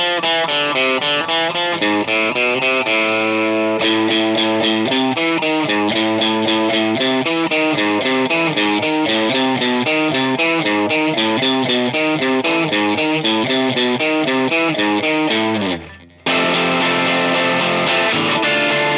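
Distorted electric guitar plays riffs, a continuous loud stream of chugging, rhythmic chord and note patterns through effects, briefly dropping out near the end before resuming.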